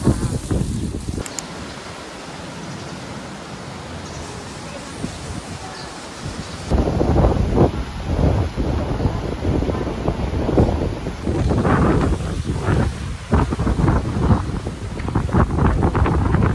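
Strong wind roars and buffets the microphone continuously on the Sabang Boardwalk in Ilocos, Philippines, growing harsher partway through, with no speech.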